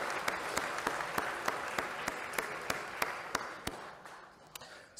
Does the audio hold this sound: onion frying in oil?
no